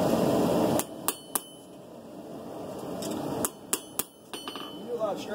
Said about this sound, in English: I'm gonna forge it to the direction,